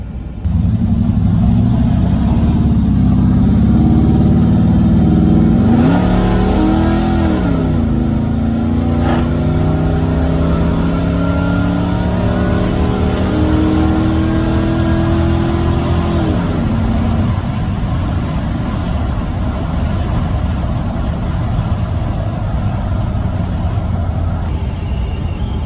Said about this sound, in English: Like the exhaust in this and how it sounds